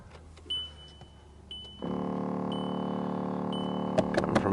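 A small recirculation flap servo motor in a Mk5 Jetta heater clicks and ticks near the dash, with a steady mechanical whir starting partway through and a few sharper clicks near the end.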